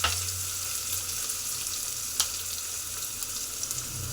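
Onions fry in a pan for a village-style country chicken sambar, giving a loud, even, close sizzle with a sharp click or two from the utensil and no speech.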